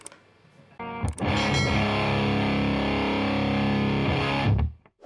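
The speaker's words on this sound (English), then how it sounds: "Now here's the heavy metal with all knobs at noon." A heavily distorted electric guitar chord through a Boss HM-2 Heavy Metal pedal, all knobs at noon, rings out loud and sustained for several seconds after a brief muted pick scratch, then cuts off.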